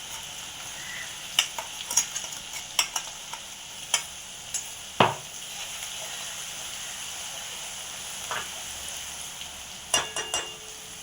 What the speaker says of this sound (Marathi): हे लसूण खोबरं पण आपलं मस्त परतलं.